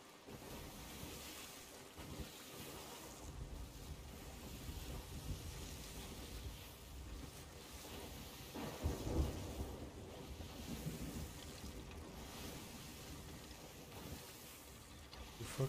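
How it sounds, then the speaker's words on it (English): A storm rages at sea in Sea of Thieves, a continuous broadband roar of wind, rain and crashing waves with low thunder rumbles swelling now and then, steady and immersive throughout. "We are in the storm,"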